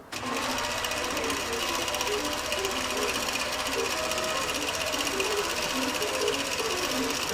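Computerised longarm quilting machine stitching a pantograph row, a steady fast mechanical chatter of the needle running continuously at an even moderate level from start to end, with no voices.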